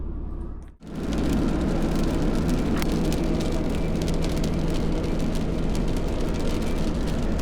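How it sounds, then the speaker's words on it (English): Steady rain falls outdoors, a dense, continuous hiss that swells up loud and close after a brief quiet moment at the start and keeps going without a break. "It's freaking raining."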